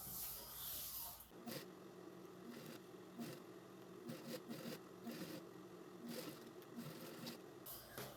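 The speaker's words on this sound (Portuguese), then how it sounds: "E aqui eu vou fazer também, ó, uma costurinha bem na beiradinha" A sewing machine runs a short stitched seam along the edge of jeans and patchwork fabric: a steady, quiet mechanical whir with a rapid rhythmic chatter, starting after a brief hiss and continuing at an even pace.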